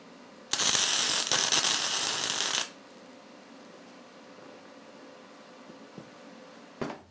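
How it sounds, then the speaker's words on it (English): A MIG welder running flux core wire lays a weld onto a broken bolt. A loud, crackling buzz lasts about two seconds and then cuts off, leaving a quiet hum with a small click or two. "we'll go ahead and weld this and see what happens."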